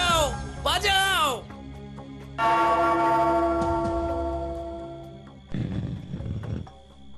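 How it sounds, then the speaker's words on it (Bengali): A bell with a moon drawn on it is rung in an animated Gopal Bhar story. It gives a single sustained metallic ring of about three seconds, with excited voices and animal-like cries before and after. "ওই ঘন্টাটা বাজাও, বাজাও।"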